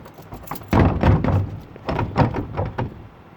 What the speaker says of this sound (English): I am going to have to knock on the door just to make sure that no friendly little critters come out at me.